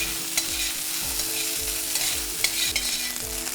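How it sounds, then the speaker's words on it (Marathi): Okra (bhindi) frying over high heat in a wok, a continuous close sizzle punctuated by regular stirring scrapes and light clinks of the spatula, with no talking. "हे बघा मोठ्या आचेवर चार पाच मिनटं भेंडी भाजली"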